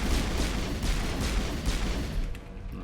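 Heavy, continuous gunfire and booming blasts during a sniper attack in the video game Mass Effect 1 Legendary Edition, loud and dense throughout before easing off near the end.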